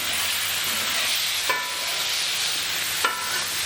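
Beef searing on a hot griddle for a stir fry, a loud, steady close-up sizzle with a continuous hiss throughout and two brief sharp spatters.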